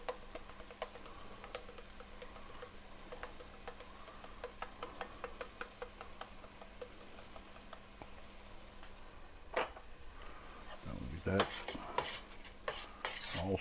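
Spoon scraping and clinking in a pan while oyster dressing seasoned with kosher salt and black pepper is stirred, quiet irregular taps and scrapes under a faint hum, with a louder burst of clatter toward the end.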